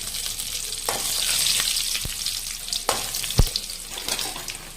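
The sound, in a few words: tempering dried chilies and curry leaves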